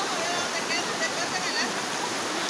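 A rain-swollen river flows past in a continuous, even rush of water with a bright hiss. The sound is close and dense and holds steady throughout.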